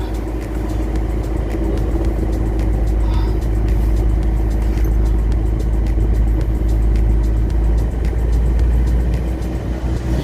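Isuzu Sportivo engine held at 2,000 RPM while showing throttle delay, vibration and low power, a loud steady low drone with constant rumble, close and uninterrupted.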